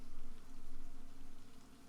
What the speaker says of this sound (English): Man, it's really raining out there. I hope y'all can hear that.